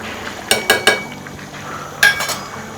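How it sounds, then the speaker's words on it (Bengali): A utensil clinks and scrapes against a pan while onion and roasted cumin powder are stirred for Bengali katla fish-head muri ghonto: a quick cluster of three metallic knocks, a pause, then a few more, close and clear. "এগুলোকে একটু নেড়ে চেড়ে মিক্সড করে নিচ্ছি।"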